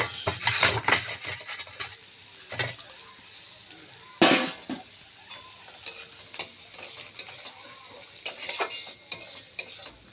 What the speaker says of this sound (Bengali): এটা একটু নাড়াচাড়া করতে হবে নাহলে একটু মিশবে না এটার সঙ্গে গাজরের সঙ্গে